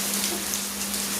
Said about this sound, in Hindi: तो अभी बारिश तो खूब डरा के गिर रही है।